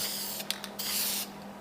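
Primer sprays from an aerosol can onto an axe head: a few short hissing puffs, then one longer sustained burst, close and fairly loud, over a faint steady background hum.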